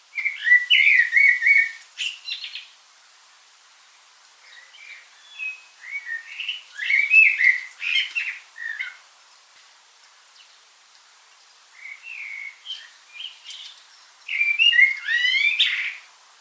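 A male blackbird sings its fluty spring song from a rooftop in short phrases separated by pauses, clear and fairly close, with high twittering endings and no other sounds.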